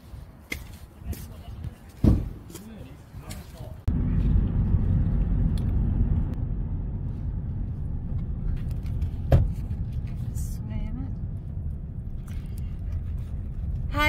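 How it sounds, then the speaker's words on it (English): A car drives along a road with a steady engine rumble and tyre noise inside the cabin, after a few seconds of clicks and handling sounds, with occasional small knocks and a brief bump. "that's us just driving back home now"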